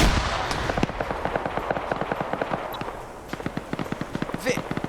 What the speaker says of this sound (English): More grenades being thrown.